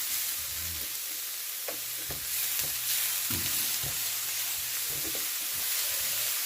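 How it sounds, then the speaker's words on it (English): Finely chopped carrot, onion and celery fry in a pan greased with cooking spray, a steady close sizzle with occasional soft scraping and stirring taps throughout. "And I'm just frying this up"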